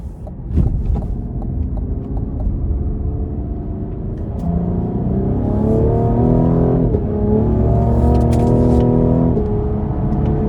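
A Cadillac CT5 with a 3.0 twin-turbo V6 pulls hard, its engine note climbing steadily in pitch through the gears with a loud, close, continuous rumble and a brief dip at a shift.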